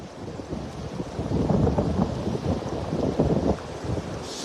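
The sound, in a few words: strong wind on a rainy day while fishing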